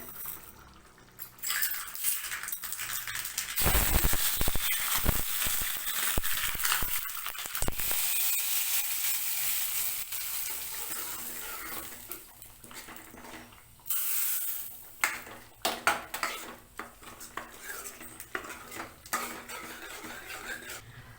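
Loud crackling sizzle bursts from hot oil as mustard seeds and curry leaves hit the pan, spitting sharply at first, then settling and flaring again amid clinks of a pot.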